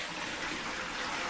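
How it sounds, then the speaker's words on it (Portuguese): Tap water gushes steadily into a plastic mop bucket, a close, loud, continuous rushing pour with no voices over it. "o primeiro passo é você colocar água aqui no nosso balde"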